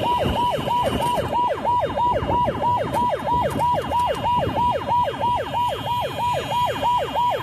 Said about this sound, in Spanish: ¿Escuchaban el ulular de las sirenas de la ambulancia que nos indica